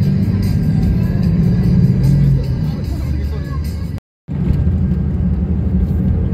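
A sleeper bus of the PO Gunung Harta line, travelling from Bali to Jogja, drives along the road with a steady low engine rumble and road noise, heard from inside the cabin, with a brief cut to silence partway through.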